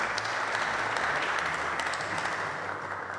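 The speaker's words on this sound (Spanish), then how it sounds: "Some applause for this." Steady, loud applause from an audience in a hall after an official memorandum signing during the Emir of Qatar's state visit, a dense, even wash of clapping throughout.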